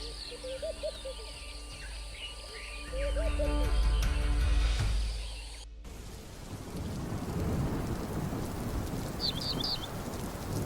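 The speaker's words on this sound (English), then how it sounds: "Amid the steady rain at the edge of the forest" Steady rain falls at the edge of a forest as a constant broadband hiss, with bird calls and a low rumble early on, then heavier, denser rain and a few faint chirps near the end.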